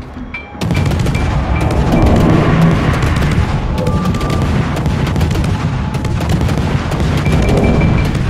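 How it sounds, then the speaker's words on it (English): A naval battle game with an enemy destroyer blowing up: a sudden loud blast opens a sustained roar of explosions and gunfire-like bursts that keep rumbling for several seconds without voices. "Enemy destroyer blown up."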